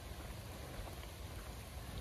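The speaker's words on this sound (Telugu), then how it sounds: "వర్షం వస్తుంది కాబట్టి కొంచెం ఇబ్బందిగానే ఉంటుంది" Rain falls steadily at a riverside viewpoint in Yanam, a soft even wash of patter that is faint and continuous with no voices over it.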